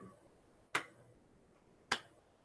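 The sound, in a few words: hand clap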